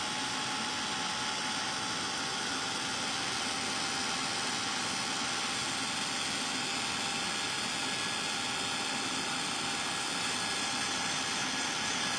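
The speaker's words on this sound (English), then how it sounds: "just embossing this now with the heat gun." A heat gun blows a steady, even hiss while embossing powder on a Christmas card featuring a penguin, a constant airy roar holding level and close for the whole stretch with no pauses.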